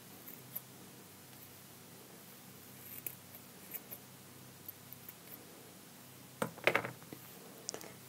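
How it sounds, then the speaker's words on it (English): Scissors snipping the yarn ends of a tassel in a quiet room: a few faint isolated clicks early on, then a close cluster of quick crisp snips near the end. "now we are going to go ahead and cut the ends"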